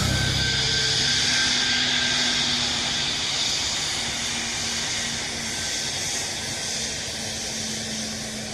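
A Ryanair jet landing at Dublin Airport gives a broad, steady roar with a hissing edge that slowly fades, heard alone at moderate distance.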